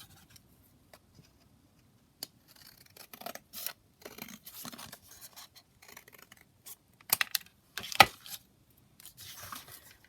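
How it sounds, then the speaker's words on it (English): Scissors snip through a sheet of patterned scrapbooking paper, cutting it roughly in half at a craft table, giving a series of soft, close cuts and rustles that grow busier toward the end, with one sharper crisp snip. "I'm going to just snip this kind of roughly in half"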